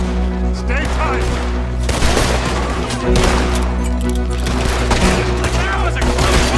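Red Dead Redemption 2 shootout with rapid, loud gunshots cracking out in quick irregular volleys over a low rumbling backdrop, close and dense, while characters shout amid the fire.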